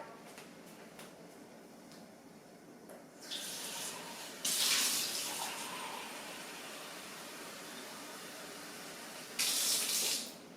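A kitchen tap runs water into a measuring cup in short bursts, a soft hiss swelling to a louder splashing gush twice and stopping between, fairly close and quiet overall, with no talk.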